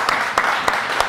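Brief, sparse clapping from a small studio audience during a gaming livestream show, a few distinct claps over a thin wash of applause.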